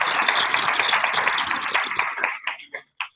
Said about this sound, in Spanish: pedir a todo el curso un fuerte aplauso a Ronald